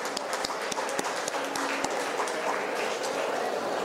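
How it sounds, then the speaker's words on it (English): A crowd applauds organizers at an engineering conference day, a dense, steady wash of clapping that holds at even loudness throughout, with a few sharper individual claps standing out. "So please give a huge round of applause to all the organizers."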